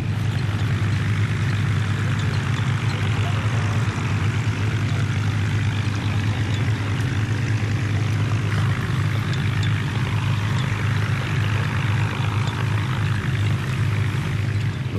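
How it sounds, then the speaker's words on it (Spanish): Rolls-Royce engines of WWII Hurricane or Spitfire fighters drone loudly and steadily throughout, a continuous deep roar with no breaks. "Esos motores Rolls-Royce suenan como música."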